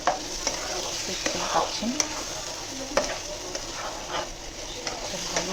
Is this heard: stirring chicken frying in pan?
yes